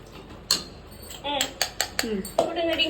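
Spoon clinking against a cooking pot while ginger garlic paste is stirred with onions and tomatoes, several sharp metallic taps and scrapes in quick succession, close by.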